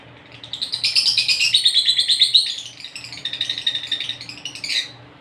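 A noisy pet lovebird or parrot chirps in rapid, shrill bursts, close and loud, in two long runs of tweets with a short pause between, over a faint low hum.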